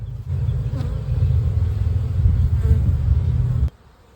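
Honeybees hum at an open hive during an inspection, a loud, dense, steady low drone close by that cuts off abruptly near the end.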